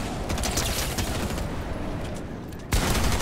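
Rapid, continuous minigun fire in a video game, a loud, dense stream of shots that briefly thins near the end before bursting back at full force.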